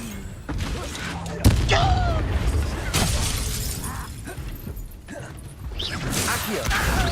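Incendio fire spell in Hogwarts Legacy, a sharp crack followed by crashing, whooshing blasts and shattering impacts amid combat, with voices in the background.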